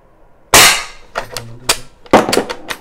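Legends Cowboy CO2 lever-action air rifle being cycled: two sharp, loud metallic clacks of the lever working, each followed by a quick rattle of ejected shells clattering, close up with no talking.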